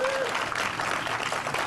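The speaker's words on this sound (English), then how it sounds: "So she deserves a big round of applause" A department head receives a big round of applause from an audience at a county health event, steady dense clapping filling the moment, with a brief voice rising at the start.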